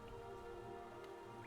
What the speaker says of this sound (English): Rain and windows.